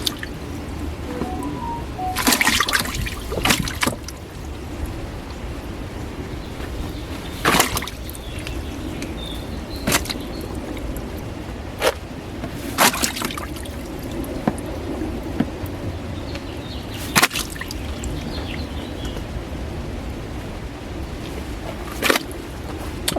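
A Costway portable washing machine runs a five-minute rinse, sloshing water around inside. A low, continuous churning is broken by scattered louder splashes and drips at uneven intervals, close by with no talking.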